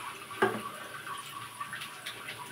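Water is poured into a spice paste with mustard for a fish roe recipe, giving a brief soft splash followed by faint trickling, with no one talking.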